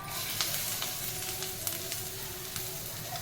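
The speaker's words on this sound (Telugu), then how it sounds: "కొంచెం నెయ్యి వేసుకుని అల్లం వేయించుకుని" Ginger frying in ghee gives a soft, steady sizzle with scattered light crackles and pops, fairly quiet and close, with no voices.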